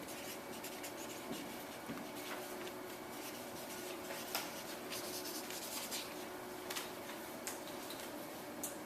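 A marker squeaks and scratches across a whiteboard in short strokes, quiet and close, with a few brief taps between lines.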